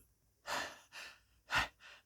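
A narrator's voice imitates heavy, fearful breathing after a frightened run, giving four close, breathy gasps in an uneven rhythm, the third the loudest.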